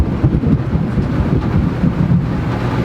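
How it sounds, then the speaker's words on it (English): Thunder from a very close lightning strike during a sudden Florida rainstorm rumbles loud and low, a continuous heavy roll mixed with wind buffeting the microphone. "The lightning blast that hit real close was insane."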